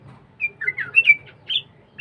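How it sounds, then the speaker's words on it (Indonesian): Sooty-headed bulbul in the morning giving a series of bright chirps and short whistled calls, several separate phrases over a soft low background, fairly close and clear with no voices. "burung trucuk. Pagi-pagi dia subuh-subuh sudah ya sudah berkicau, sudah bersuara."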